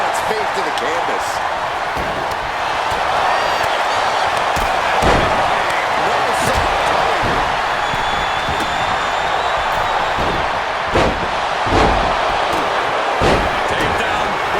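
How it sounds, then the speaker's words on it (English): A wrestler slams an opponent's face to the canvas in the WWE 2K25 video game, heard as sharp repeated impact thuds over a constant arena crowd roar, with a few louder hits standing out. "slamming their opponent's face to the canvas"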